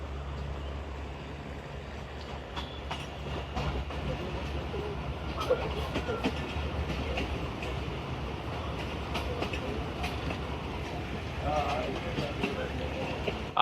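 The Chenab Express pulls out of Ajnala station, a continuous low rumble of rolling coaches with intermittent rail clicks and clatter, steady and close, while voices talk faintly in the carriage.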